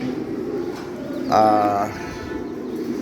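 A king pigeon gives a single clear coo midway, close and fairly loud, set against a low background murmur and faint room noise.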